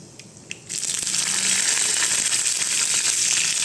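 Dried red chillies drop into hot coconut oil with mustard seeds and fenugreek for a mango pulissery tempering: after a quiet start, a sudden loud, crackling sizzle bursts up close and keeps going steadily.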